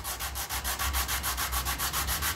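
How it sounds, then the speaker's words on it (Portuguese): A wooden knife handle being sanded with coarse 50-grit sandpaper, a steady back-and-forth rasping in quick even strokes, close and clear with no talking. "Aí você vai lixando aqui, ó."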